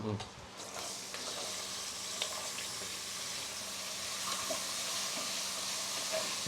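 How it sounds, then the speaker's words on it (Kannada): Potatoes sizzle and crackle steadily in hot oil while making sabudana khichdi, a close, continuous frying hiss with occasional pops and stirring scrapes. "ಈ ಥರ ಚೆನ್ನಾಗಿ ಫ್ರೈ ಮಾಡ್ಕೋಬೇಕು"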